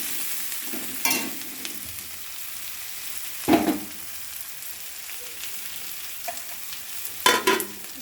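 Onion and tomato sizzle softly in a hot pan while being stir-fried, a low steady frying hiss broken by a few sharper scraping stirs of a spatula, close and fairly quiet with no talking.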